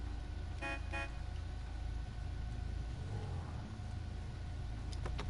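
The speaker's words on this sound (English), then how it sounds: "Pull up a little bit and honk the horn for him." Two short car horn honks sound close together early on, followed later by a faint quick toot, over a low engine rumble in a police roleplay video game.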